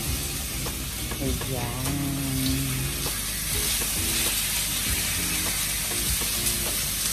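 Chicken sautés in a hot pan for spicy Bicol Express, giving a continuous close sizzle with stirring clatter, and a voice speaks briefly.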